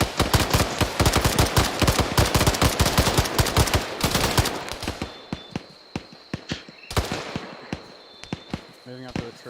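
Rapid bursts of automatic gunfire from a squad training exercise, dense and continuous for the first few seconds, then thinning into scattered single and double shots, with a voice talking briefly over the shooting.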